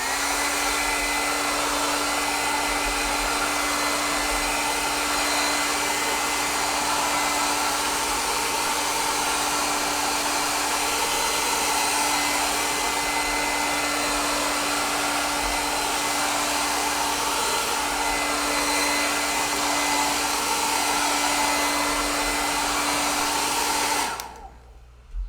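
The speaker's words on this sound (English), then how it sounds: "So I'm going to blow dry this real quick" A hair dryer blows steadily and loudly on acrylic paint for about 24 seconds, a constant close whooshing roar with a motor hum, then cuts off abruptly near the end.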